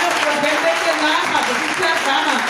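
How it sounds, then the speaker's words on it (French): A church congregation applauding and cheering for Jesus, dense continuous clapping mixed with voices calling out, loud and sustained throughout. "acclame Jésus"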